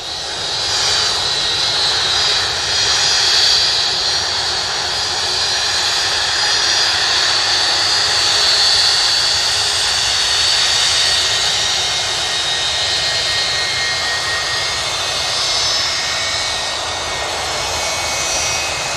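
A Boeing 757 jet comes in to land close by at Manchester Airport, a loud sustained engine roar with a high whine that swells and eases gently across the pass, with no talking.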